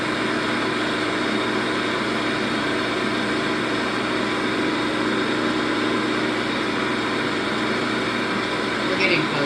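Blender spinning steadily while making hollandaise sauce, a continuous even whir at constant loudness from start to finish with no breaks.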